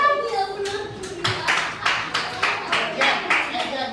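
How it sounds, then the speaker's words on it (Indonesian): A class of students claps together in a rhythmic patterned sequence of sharp, loud bursts after a brief voice at the start. "Tepuk tangan yang kedua."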